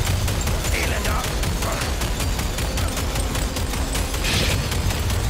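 Rapid bursts of gunfire from the video game Gears 5, dense and continuous across the clip with repeated sharp cracks, while a voice talks over the shooting.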